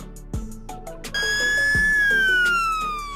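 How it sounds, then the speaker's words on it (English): A fire truck siren swells in over background music, rising to a long, loud, steady tone that slowly falls in pitch as it holds through the rest of the short stretch. "Fire truck."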